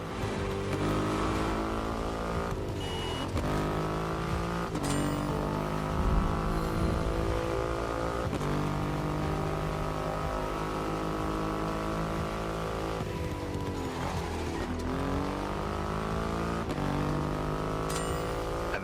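A Triumph Rocket 3 with its 2.5-liter engine roars steadily in the racing game The Crew Motorfest, loud and close, with repeated gear shifts rising and falling in pitch.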